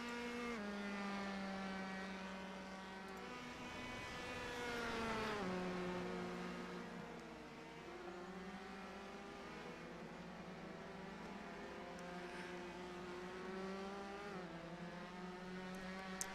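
A race car in iRacing during a TNT Promotions Bolt Series qualifying session circles the track, its engine droning steadily at high revs with pitch shifts as it shifts and accelerates, continuous and fairly loud throughout.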